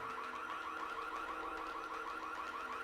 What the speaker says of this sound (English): watch the alarms